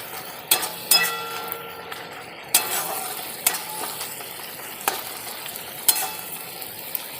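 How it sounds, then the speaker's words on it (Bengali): A spatula scrapes and clatters through mutton fried rice with coriander leaves and green chillies in a pan over a soft continuous sizzle, with several sharp metallic knocks spaced a second or so apart. "আবার ভালো করে একটু নেড়ে নেব"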